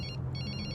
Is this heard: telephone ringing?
yes